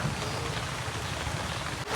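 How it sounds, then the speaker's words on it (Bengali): Rain falls steadily in an even, close wash of patter with no voices, ending in a brief soft knock. "বৃষ্টি জোরে হলো"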